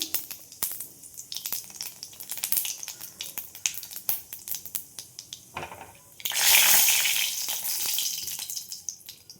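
Cumin seeds and green chillies hit hot white oil in a pan, first crackling in sharp, scattered pops, then bursting into a loud, dense sizzle that gradually settles.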